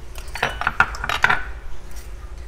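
A utensil scrapes and clinks against a pan while cream cheese is stirred into a sauce for keto Cajun shrimp Alfredo, a quick run of metallic taps and scrapes up close.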